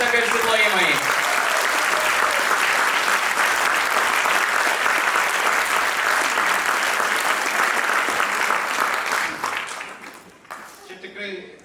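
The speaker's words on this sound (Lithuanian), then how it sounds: "Dar kartą garsiai plojimai." Loud, dense applause from the audience at a children's choir 30th anniversary jubilee concert fills the hall continuously for about ten seconds, then quickly tapers off into scattered claps.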